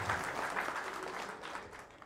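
Audience applause at a Polycab electricians' event, a dense steady wash of many hands clapping throughout, loud and close, tapering slightly toward the end.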